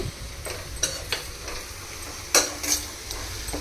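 Onions fry in a pan for egg curry, a soft continuous sizzle broken by a few sharp scrapes and clinks of stirring.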